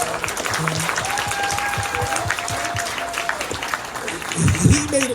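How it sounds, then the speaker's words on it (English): A convention panel crowd applauds steadily for an actor, a dense clapping texture heard with voices and tonal chatter mixed through it, ending with a louder low burst. "he deserved the round of applause"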